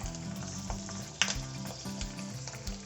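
Two whole garlic bulbs fry in a pan over a low gas flame for Kolhapuri bhadang chivda. A soft, steady sizzle runs throughout, with occasional light stirring clatter, close up and without talk.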